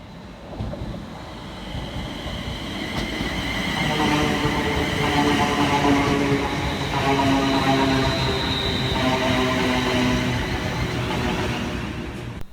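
London Northwestern Railway train at Stafford station, a broad rumbling roar with rhythmic clatter that swells and holds through the middle, heard from the platform with no talk.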